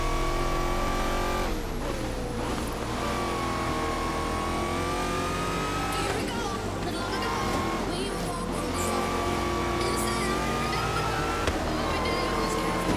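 Nissan GT-R engine in Forza Horizon 3, a steady high-pitched racing drone that rises and falls with shifts and revs, continuous and close throughout, with a voice talking over it at times.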